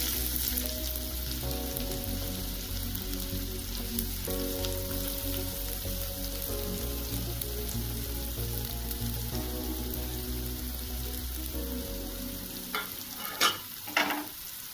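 Onions fry in ghee with a steady, even sizzle, and a few sharper crackles and stirring sounds come toward the end.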